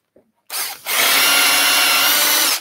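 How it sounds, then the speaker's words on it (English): A drill bit bores into a wooden salt mill blank on a lathe setup. A brief knock is followed by a loud, steady, close grinding whir that holds for about two seconds before easing off. "you can see me drilling in nicely"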